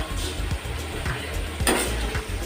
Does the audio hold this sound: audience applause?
no